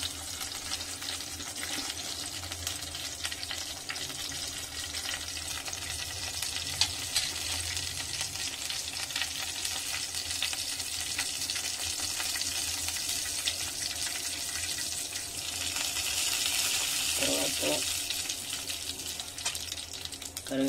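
Tempering spices crackle and fry in hot oil for a spinach and moong dal curry, a continuous soft sizzle with brief pops, growing slightly brighter toward the end, heard alone without talk.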